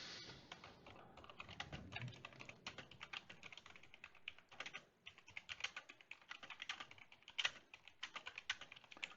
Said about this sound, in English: Let me type to John.